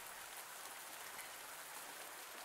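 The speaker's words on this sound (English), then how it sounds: "I think it's raining" Steady, soft rain in the farming video game Pumpkin Days hisses evenly as a constant, faint wash with no other sounds.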